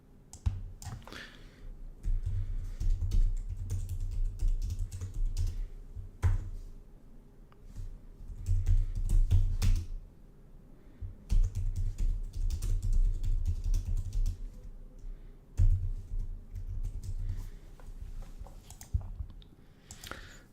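Someone types on a computer keyboard in bursts, with fast clattering keystrokes grouped into runs and separated by short pauses.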